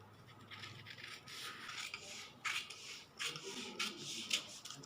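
Scissors cutting along the armhole of a paper blouse pattern, with soft rasping, rubbing snips in irregular bursts, close and fairly quiet with no talk.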